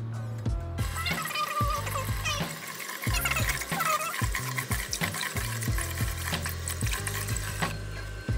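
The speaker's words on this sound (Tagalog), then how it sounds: "Wash the rice." Raw rice being washed by hand in water for sticky rice with Chinese sausage, with steady swishing, clattering grains and splashing, running water and bowl knocks throughout, close and fairly loud.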